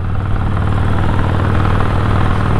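A Harley-Davidson Iron 1200 motorcycle idles with a steady, close, low throbbing engine note that runs on alone without any voices.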